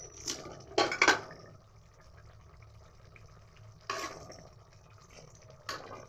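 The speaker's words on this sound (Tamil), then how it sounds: "கொஞ்சம் தண்ணி ஊற்றலாம் சுற்றியும்." Water is poured into a cooking pan in a home kitchen, heard as short splashes and metallic pan clatter in a few separate bursts at close range, with quiet gaps between them.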